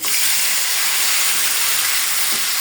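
Dried fish (shutki) sautéing in a pan gives a loud, steady, close sizzle, a continuous bright hiss that holds evenly throughout with no pauses.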